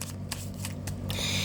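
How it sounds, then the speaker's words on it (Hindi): Tarot cards are shuffled by hand up close, with a few quick crisp riffling snaps followed by a longer soft flutter of cards over a low room hum. "last shuffle"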